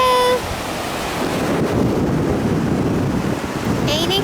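Ocean waves washing onto a beach, a steady broadband rush mixed with heavy wind buffeting the microphone, with no clear break between swells.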